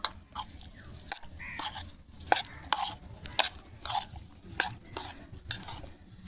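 Food with kasundi mustard sauce is mixed by hand in a bowl, close squelching and crunchy kneading sounds coming in uneven pulses, with occasional light knocks against the dish.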